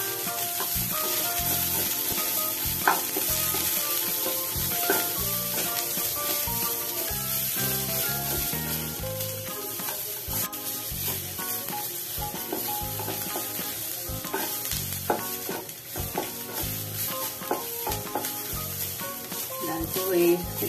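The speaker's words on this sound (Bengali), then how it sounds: "গ্যাসের ফ্লেমটাকে মিডিয়াম করে দিয়েছি, খুব হাইও করিনি, খুব লো করা নেই। পেঁয়াজগুলোকে হালকা হালকা করে ভেজে নিচ্ছি।" Onions fry lightly in a pan over a medium gas flame, a continuous close sizzle with frequent scraping stirs and small clinks running throughout, fairly loud and steady with no talking.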